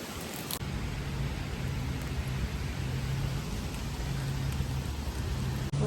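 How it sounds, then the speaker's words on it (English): Heavy rain pours down in a dense, steady hiss, loud and close, with a faint low rumble beneath and no voices. "there is like a torrential downpour"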